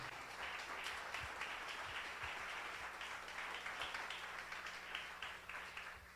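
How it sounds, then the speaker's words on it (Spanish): Congregation applauding in a church service, sustained clapping from many hands with no one speaking, fairly distant and even for six seconds. "Denle un fuerte aplauso al Señor"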